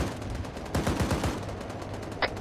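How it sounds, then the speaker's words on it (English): A machine gun in the military shooter Arma 3 lays down suppressive fire, a quick rattling burst of several rounds over steady background rumble, followed by a single sharp crack. "Machine gun. Can I get some suppressive on these contacts so my pilot doesn't get shot out?"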